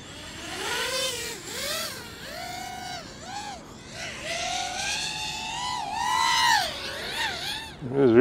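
The high-pitched motors of a 5-inch racing drone with HDLRC 2306 2450 kV motors whine and swoop, their pitch rising and falling as the drone changes speed in flight.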